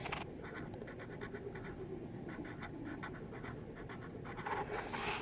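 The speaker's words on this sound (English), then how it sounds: "So I'm just going to write homophone on top of this box over here on the left side." The word homophone is written by hand, a close, quiet, continuous scratching of pen strokes with small pauses between letters, with no talking.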